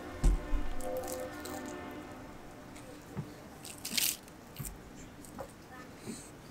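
Someone bites into a messy bite of food with salmon and lettuce at a lakeside campsite, giving a few close, soft crunching and squishing chews under quiet outdoor background noise.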